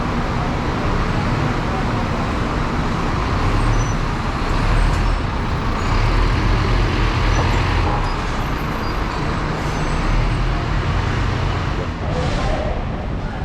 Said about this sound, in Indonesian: busnya sudah mau jalan, bro